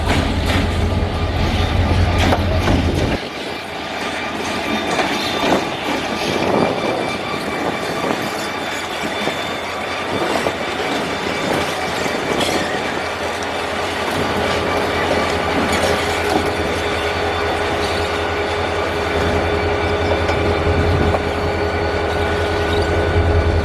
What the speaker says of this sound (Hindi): शालीमार की आमद से पहले एक NLC लोकोमोटिव का गुजर हुआ